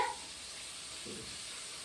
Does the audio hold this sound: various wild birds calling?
no